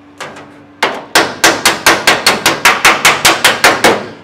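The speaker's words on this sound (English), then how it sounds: "it is also hammering our weld a little bit flatter" Rapid, evenly spaced hammer blows ring sharply on a welded cowl vent steel panel of a 1932 Ford, about fifteen loud close metallic strikes after a few lighter taps.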